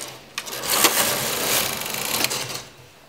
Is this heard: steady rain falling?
no